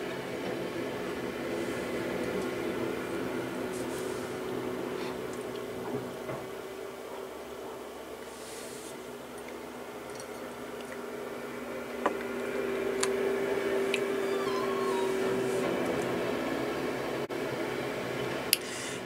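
A steady low rumble and drone of road resurfacing machinery outside, distant and continuous, with occasional faint knocks and a brief high whine.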